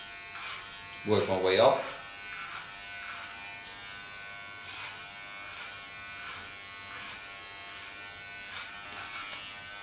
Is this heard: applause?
no